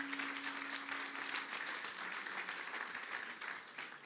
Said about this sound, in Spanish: Un fuerte aplauso para él de bienvenida